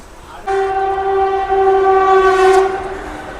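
A Tirupati–Villupuram Intercity Express passes alongside with a loud, steady two-tone horn blast lasting nearly three seconds over rumbling rail noise, close by.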